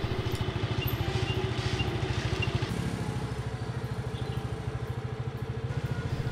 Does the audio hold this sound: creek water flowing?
no